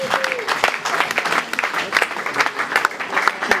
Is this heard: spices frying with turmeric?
no